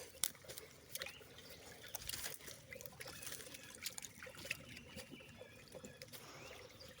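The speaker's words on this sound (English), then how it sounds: "This is running water." Water from a farm stream trickles and burbles steadily at low level, with small splashes and faint outdoor background noise throughout.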